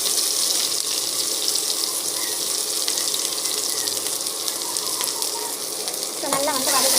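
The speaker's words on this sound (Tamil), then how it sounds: "ஸோ நல்லா வந்து வதக்கிக்கோங்க." Onions sauté with mustard seeds and cumin in a hot pan, giving a steady close sizzle and crackle throughout, with a brief clatter of stirring near the end.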